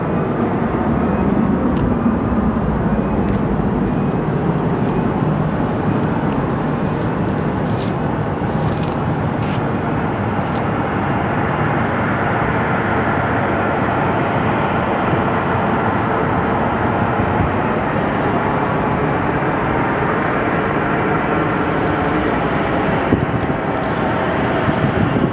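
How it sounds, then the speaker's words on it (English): A CRJ 700 jet taxiing at Phoenix Sky Harbor Airport produces a steady, loud engine roar with a broad rumbling drone and a faint whine on top, holding nearly constant the whole time with no talking heard. "This first one, we have a CRJ 700 heading for Oklahoma City. Taxiing south towards 25"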